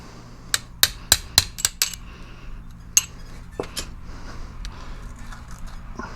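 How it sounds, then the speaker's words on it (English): Sharp metallic taps ring out as the piston boots are knocked off a Ford Super Duty rear dual-piston brake caliper: about six quick clinks in the first two seconds, one more a second later, then softer scattered knocks, close and clear. "if you just tap them, boom, they come right out"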